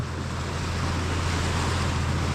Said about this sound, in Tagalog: Sana ho ay ganito na lang ulit ang alon.